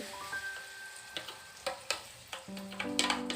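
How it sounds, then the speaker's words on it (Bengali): An egg and potato mixture frying in a kadai while it is covered and turned, giving a soft steady sizzle broken by light clicks and clinks of the utensil and lid. "এটাকেও কিন্তু আমি এভাবে ঢাকনা দিয়ে উল্টে পাল্টে ভেজে নিচ্ছি"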